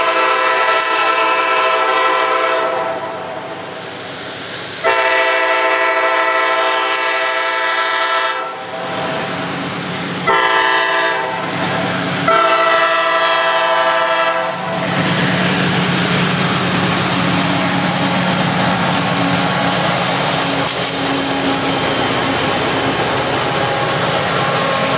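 CSX freight train rolling past with loud sustained horn blasts, long rumbling wheel noise and clattering cars continuing throughout, heard close by.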